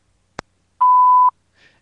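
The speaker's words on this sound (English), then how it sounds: "Please leave a message after the beep." A voicemail beep on a phone line during a radio show: a short click, then a single steady electronic tone of about half a second, clear and alone, followed by faint noise.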